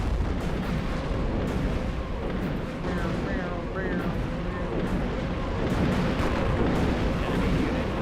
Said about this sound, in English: There's a mortar somewhere.